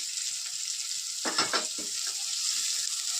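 Chopped onion and green chili sizzle steadily in hot oil in a pan, a continuous close hiss with a brief louder burst of stirring and spattering partway through, and no voices.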